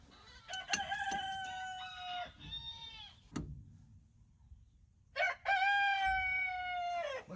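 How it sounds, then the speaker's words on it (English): Roosters crow twice, long drawn-out calls with a short gap between them, sounding fairly close in an otherwise quiet outdoor setting during a Kenworth W900A truck brake job. "Sorry about the roosters."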